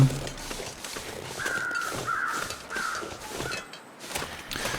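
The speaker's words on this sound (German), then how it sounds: "Dort hat es Vögel." Crows cawing in the snowy wilderness of The Long Dark, several harsh calls in a loose sequence at a middle distance over a soft steady ambient background.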